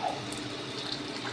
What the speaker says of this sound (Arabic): هنبدا نحط الميه على البطه